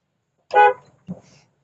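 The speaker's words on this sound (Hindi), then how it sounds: "मैंने हॉर्न लगा दिया" A car horn gives one short, sharp honk, followed by a faint thump in otherwise quiet surroundings.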